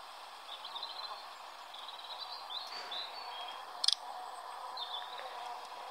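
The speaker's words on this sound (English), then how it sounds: "Sorry if you can hear like birds in the background" Faint chirping birds call intermittently from a distance over a quiet background hiss, with one brief sharper click near the middle.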